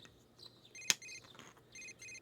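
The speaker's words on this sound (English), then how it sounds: "Your cell phone is ringing." A cell phone rings in the video game Persona 4 Golden, a faint electronic chime repeating in short tonal bursts, with one sharp click in between and a quiet background.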